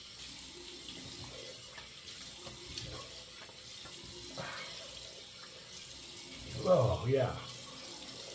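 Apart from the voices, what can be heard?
water tap running while rinsing face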